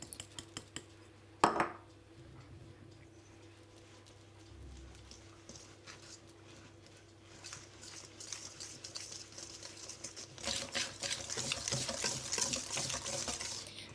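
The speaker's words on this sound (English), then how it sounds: "And now I'm adding the sugar and mixing that well together." Butter and sugar are mixed together in a bowl, with faint scraping and clinking of a utensil against the bowl, a sharp knock early on and busier stirring toward the end, quiet and close.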